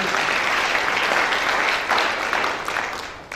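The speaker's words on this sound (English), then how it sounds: "So if we could just give a big round of applause to all our sponsors." Audience at a diversity conference applauds its sponsors, a dense, loud burst of clapping from many hands that holds steady, then eases slightly toward the end.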